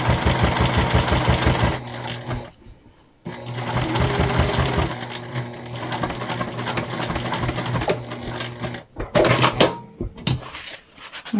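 Top stitching a crossbody bag, a sewing machine whirs loudly up close in bursts, with a quick run, a brief stop, a long steadier stretch, then stuttering short stitches and clicks near the end.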